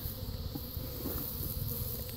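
Honeybees buzzing at a new backyard hive while the top box is cleared, a dense continuous close-up drone with fluctuating intensity.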